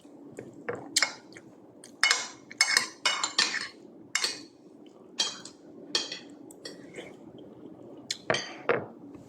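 Dishes and crystal glassware clink during a meal, with repeated sharp taps and chinks of cutlery on plates and glasses scattered irregularly over a quiet room background.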